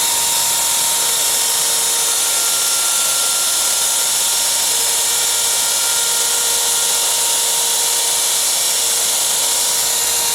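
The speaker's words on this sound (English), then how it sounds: "this is the first milling of aluminum on the brand new mills" A DIY CNC router with a high-speed spindle motor mills aluminum on a brand-new machine, giving a steady, loud, continuous high-pitched whine with a constant tone and no pauses.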